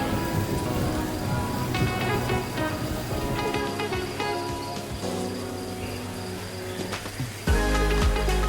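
Slight rain patters steadily outdoors around Kuranda village, with a dense hiss of drops and insects chirring throughout, and a sudden louder, lower rush near the end.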